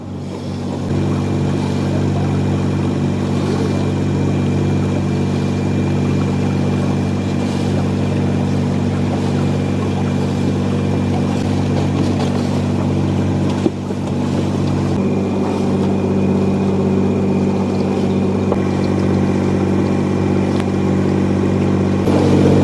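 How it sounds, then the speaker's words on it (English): A boat engine runs steadily on a canal in Ghent, a loud, continuous low drone with a constant hum and no talk. "You like driving the boat, don't you?"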